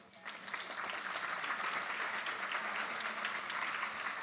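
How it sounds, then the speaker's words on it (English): Sustained applause from a symposium audience at a cancer event fills the room, dense and even throughout with no break, fairly close and steady in loudness. "So another round of applause for you, Keith."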